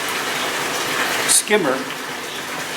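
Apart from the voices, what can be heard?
water filling a homemade fish tank filter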